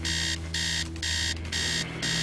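A loud electronic alarm rings in the horror video game Stories Untold: The House Abandon, blaring in steady, evenly spaced bursts with brief gaps between them, harsh and insistent, with no talking over it.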